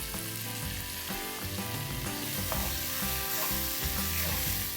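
Onions sizzle steadily in a hot pan for a Hindi chicken keema rice dish, a continuous close crackle with occasional stirring scrapes and no talking.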